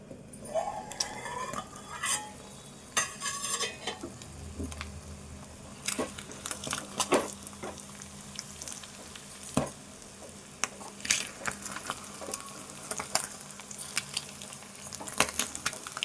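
Egg and tomato curry frying in a covered pan, with a steady sizzle under scattered clinks and scraping of a utensil against the pan, close by and moderately loud, no talking.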